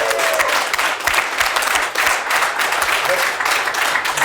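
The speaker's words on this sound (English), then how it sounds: "A big applause for Michael Nat again" An audience at a software developer conference breaks into applause, a loud, dense clatter of many hands with some crowd noise mixed in, continuing steadily for a few seconds.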